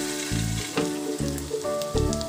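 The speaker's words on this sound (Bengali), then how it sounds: "তো বাকি মাছগুলোকেও আমি ওই একইভাবে ভেজে নেব।" Tilapia fish fries in hot oil in a pan, giving a steady close sizzle with recurring tonal sounds in the background and no talking.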